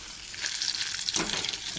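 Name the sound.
bhetki fish pakoras frying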